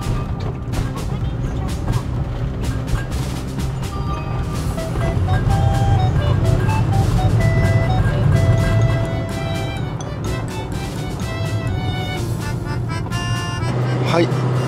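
A Toyota TownAce camper van climbs a long uphill stretch of expressway at speed, its steady engine drone and road rumble running throughout beneath a person talking, with music playing over it.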